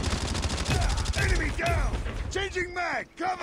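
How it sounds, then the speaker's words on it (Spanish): Gunfire in a Call of Duty Mobile match: rapid bursts of shots and clattering weapon mechanisms, loud and near, with a player's voice talking over it. "Ya empezaron los disparos."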